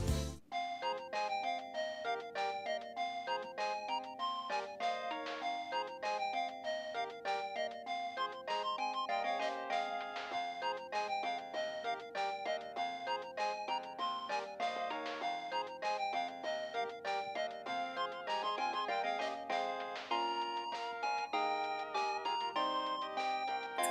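A Steins;Gate phone ringtone preview plays a bright, bell-like electronic melody of quick repeating notes, steady and fairly quiet, without voices.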